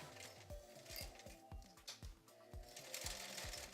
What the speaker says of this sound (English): I'm going to sew it on as I sew that seam allowance down